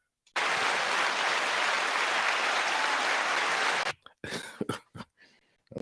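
An audience gives a loud round of applause at a talk about goat dairy, a dense burst of clapping lasting about three and a half seconds that stops abruptly. A few coughs and shuffling sounds follow.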